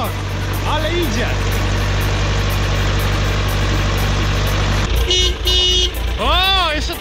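A loud, steady Ursus C-360 tractor engine rumble fills most of the clip, then cuts out as sharp horn toots sound, with voices calling out over the noise.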